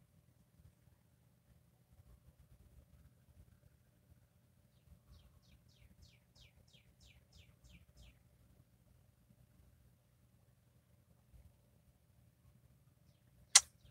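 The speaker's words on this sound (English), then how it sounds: "I have birds that are outside of my window" A faint, quick series of high bird chirps rises from a quiet background with a low steady hum, followed by a sharp click at the end.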